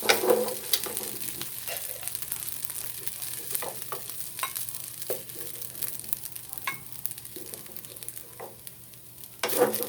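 Rice fried with salted fish in a pan: continuous sizzling with scraping and stirring strokes that come and go, close and fairly loud, with no speech.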